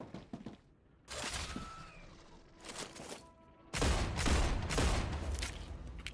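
Gunshots fire in a first-person video game, starting as scattered sharp bursts and growing into a dense, loud, continuous volley over the final seconds.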